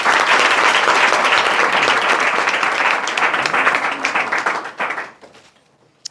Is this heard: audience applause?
yes